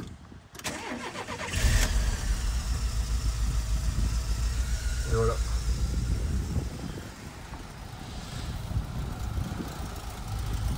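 A cold 1990 Volkswagen T3 Syncro Westfalia engine cranks, fires up and settles into a steady idle, heard close and fairly loud, with a brief spoken remark partway through.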